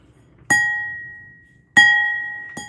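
Crystal glass pieces clink together while being handled at a live auction preview, two clear bright rings with long decaying tones followed by a softer third tap, no talking.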